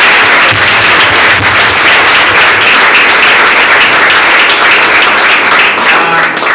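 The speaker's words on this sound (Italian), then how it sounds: "Grazie a Davide, vorrei un applauso." Audience applause at a youth forum commemoration event, loud, dense and sustained clapping throughout without letup.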